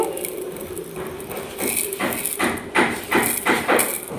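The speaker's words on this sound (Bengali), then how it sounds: "এখন আমি মশলাটা ভালোভাবে গুঁড়ো করে নেব" Whole spices are pounded for a sweet chopped mango pickle, the thuds landing as a run of sharp, regular strikes that grow louder and quicker toward the end, close by and with no talk.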